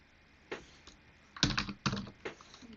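JavaScript code is typed on a computer keyboard in a few close, distinct bursts of key clicks, with a quick cluster of strokes after a lone tap and quiet gaps between them.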